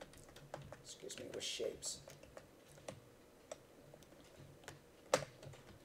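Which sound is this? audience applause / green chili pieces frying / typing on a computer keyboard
typing on a computer keyboard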